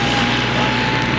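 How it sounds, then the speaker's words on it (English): A tractor rumbling past close by, a steady, loud low engine drone with broadband noise that holds evenly through the whole short stretch. "We'll wait for the tractor to go by."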